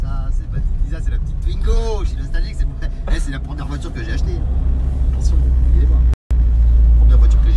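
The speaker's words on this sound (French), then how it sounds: "C'est la petite Twingo, j'ai nostalgique, c'est la première voiture que j'ai achetée." A small Renault Twingo city car passes with a steady engine rumble, loud and close, set against busy street noise and a brief dropout near the end.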